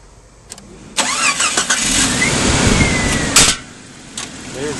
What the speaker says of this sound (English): go ahead and start your car